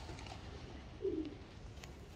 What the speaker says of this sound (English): We'll just get those birds up and moving.